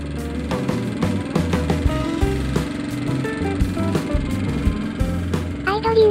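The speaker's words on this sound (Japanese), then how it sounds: "エンジンかかりました。" A Chinese clone of a Super Cub motorcycle, just started after carburettor work, idles close by with a steady, even small-engine putter and a brief rise near the end.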